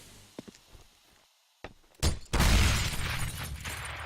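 A grenade goes off in Counter-Strike on the de_cache map: after quiet scattered game noises, a sharp crack gives way to a loud, rumbling blast that lingers and decays over a couple of seconds.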